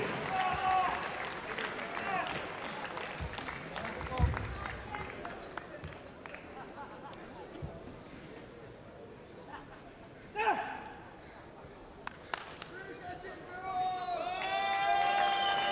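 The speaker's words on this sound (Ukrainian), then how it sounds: "Оплески!" Audience applause after a Greco-Roman wrestling 97 kg final, scattered clapping and crowd noise that rises and fades, with an announcer speaking over parts of it.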